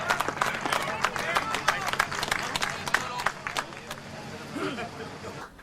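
Scattered clapping from a small group gathered at a Chilean mine rescue site as a miner boards the rescue capsule, brisk and uneven, with people talking throughout.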